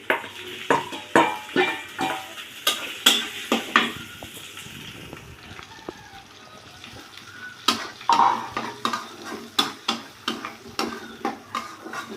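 Fried pointed gourd and potato pieces are stirred into sizzling spices in a pan for a fish-roe kofta curry, with a steady run of sharp spatula scrapes and knocks over a soft, continuous frying hiss.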